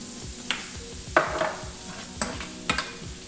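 Onions frying in a pan with a steady sizzle, broken by several sharp clacks and scrapes of a utensil stirring against the pan.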